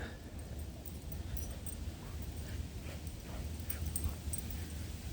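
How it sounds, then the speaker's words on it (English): Dogs play fight close by, with soft whimpers, yips and scuffling over a low steady background hum, all fairly faint and without talk. "He's basically just play fighting with her."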